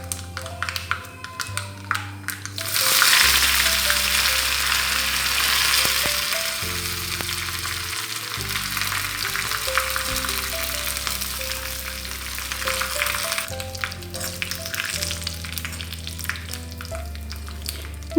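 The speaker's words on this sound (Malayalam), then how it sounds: "കടുക് പൊട്ടി വരുമ്പോഴത്തേക്കും ഇതിലേക്ക് കുറച്ച് കറിവേപ്പിലയും ഒരു 2 വറ്റൽമുളക് ചെറുതായി" Curry leaves and dried red chillies hit hot oil with popping mustard seeds and burst into loud, continuous sizzling frying for a ginger tamarind pickle, with light taps and stirring, close and steady.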